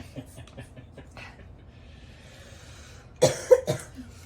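After quiet, low chatter, a person gives two or three loud, close coughs in quick succession.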